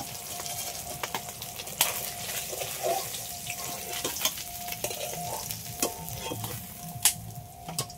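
Katla fish sizzles in hot oil, fried until crisp and red, with a constant crackling hiss and scattered sharp pops and spatters, close and fairly quiet.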